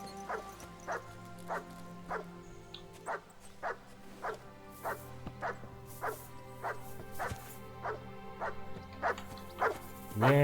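A dog in the medieval video game Kingdom Come Deliverance 2 barks in a steady, evenly spaced series of sharp woofs, about a dozen in a row, loud and close over a low hum.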